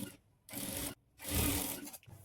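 Sewing machine stitching blouse fabric, running in two bursts of steady whirring and rubbing, each lasting about half a second to a second, with short pauses between them. The sound is close and fairly quiet, and no one speaks.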